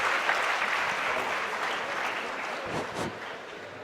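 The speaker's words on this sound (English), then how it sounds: "So please give a huge round of applause for the session chairman and the paper presenters." Conference audience at a national student convention applauding after a technical session, sustained even clapping from a large hall, moderately distant and without talk, tapering slightly near the end.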